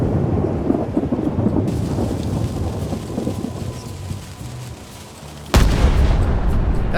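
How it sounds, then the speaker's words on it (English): A cannon firing in Return to Monkey Island: a long low rumbling roar like rolling thunder, then a sudden loud boom near the end, with no voices. "Ready for cannon firing."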